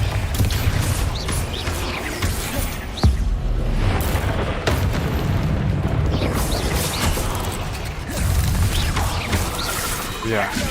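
A Bombarda blast spell in a Harry Potter video game, booming explosions among rapid spell effects, with a voice shouting spell names over the action throughout.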